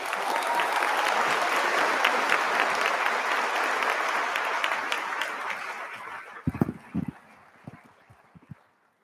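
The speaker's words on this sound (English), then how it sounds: "can we give an outstanding round of applause to the hardworking and" A graduation audience gives a long, loud round of applause that fills the hall, then thins out into a few scattered, closer individual claps before fading away.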